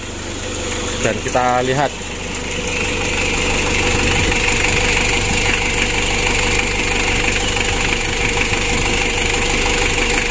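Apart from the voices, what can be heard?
Mitsubishi L300 diesel engine starting and idling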